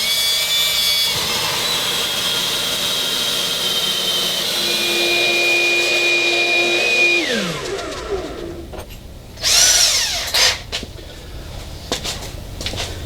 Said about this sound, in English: I'm going to drill 2 3/16 holes in here.